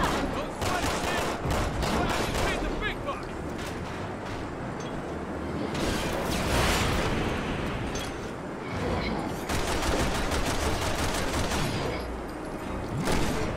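Heavy gunfire in the video game Resident Evil 6 comes in dense, loud bursts of rapid shots, with a short lull in the middle, while a voice speaks briefly underneath.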